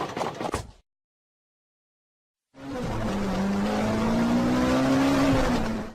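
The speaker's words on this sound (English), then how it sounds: "Racing car." A racing car engine roars loudly and steadily for about three seconds, its pitch slowly climbing. A short spoken word and a pause of silence come before it.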